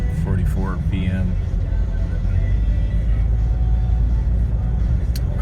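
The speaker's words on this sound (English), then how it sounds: "I cannot believe how much traffic there is" Road traffic heard from inside a car in the evening: a steady, loud, low engine and road rumble fills the cabin throughout, with a person briefly talking at the start.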